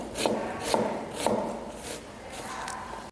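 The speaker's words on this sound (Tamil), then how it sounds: "நைஃபை கொஞ்சம் கிராஸாக வச்சு கட் பண்ண ஸ்டார்ட் பண்ணணும்" A chef's knife chops food on a cutting board in a catering and kitchen skills setting, with several crisp, even strokes about half a second apart, close and clear with no talking.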